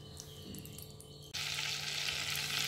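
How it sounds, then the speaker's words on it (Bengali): Butter and oil hit a hot wok. A soft, quiet start suddenly jumps into a loud, bright, steady sizzle that holds to the end, with no voices. "এর মধ্যে আমি একটু তেল আর একটু মাখন দিয়ে দেব"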